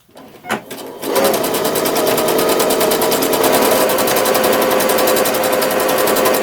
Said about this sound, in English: Now that I've finished sewing my decorative stitch all the way down the back side of my opening